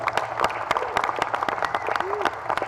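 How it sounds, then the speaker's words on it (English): Audience at a Hammond city mayor's community night breaks into scattered, uneven clapping, with voices talking over it throughout. "So let's give Ron a big round of applause."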